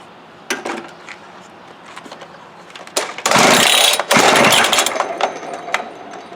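A demolition saw with choke and compression release is pulled to start, giving a few short sputters before catching into a loud, rough running roar, briefly cutting out and resuming.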